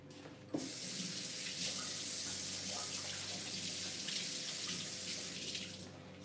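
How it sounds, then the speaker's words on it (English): Hands being washed under a running kitchen tap during Thanksgiving cooking prep, a steady close rush of water from start to finish with a small splash near the start. "So washing my hands well and then drying with a towel."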